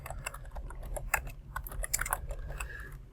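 Quick, irregular keystrokes clatter on a computer keyboard as text is typed, close and crisp with small bursts of clicks over a low background hum.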